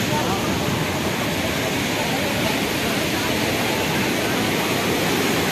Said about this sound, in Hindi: ये ब्रिज के ऊपर से पानी आ रहा है